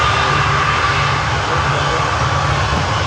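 Engines on an Air Canada cargo jet spool up into a loud, continuous roar with a steady whine on top, heard from a distance outdoors.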